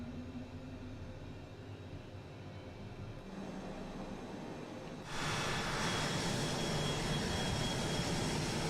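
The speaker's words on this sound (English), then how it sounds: "These are the engines running up there." Twin jet engines of a Cessna Citation Mustang starting up in Microsoft Flight Simulator: a steady whining, rumbling drone that swells sharply into a louder, brighter roar partway through as the second engine spools up, with no talk over it.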